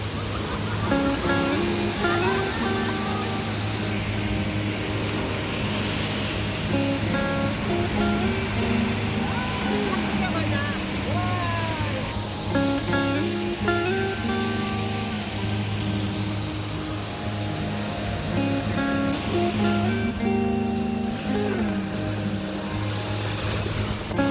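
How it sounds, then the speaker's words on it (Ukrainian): Steady rushing roar of ocean waves on the coast of Jeju, Korea, continuous and fairly loud, with faint voices and other tonal sounds mixed in. "Які хвилі сьогодні гарні."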